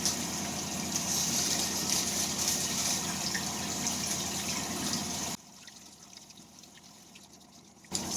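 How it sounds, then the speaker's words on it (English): Ice-cold water pours and trickles steadily over dyed rainbow hair during a rinse. The flow runs continuously and close by, then drops abruptly to a quieter dribble near the end. No one speaks. "I'm going to rinse this cold water over my head."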